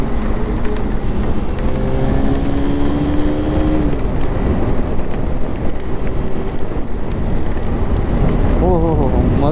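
A motorbike engine revs down through the gears while riding at speed in wet weather, a stepped series of falling engine tones under heavy wind roar, close and loud.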